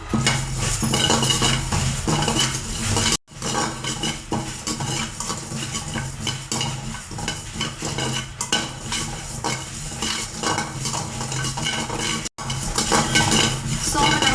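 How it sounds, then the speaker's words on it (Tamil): Fennel seeds dry-roasting in a pan while being stirred, a steady dense rattling scrape with dry crackle and metal clinks, loud and continuous with two brief pauses, no talk. "சோம்பு நம்ம நல்லா வறுத்து எடுத்துக்கலாம்"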